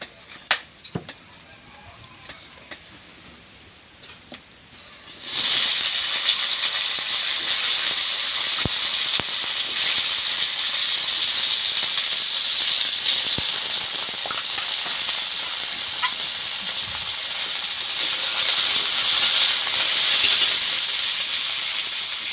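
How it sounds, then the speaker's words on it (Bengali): Sliced potatoes hit hot oil and burst into a loud, steady sizzle after a few seconds of quiet kitchen clatter, with the frying hiss continuing close up and swelling slightly toward the end. "এখন আমি আলু ভাজবো।"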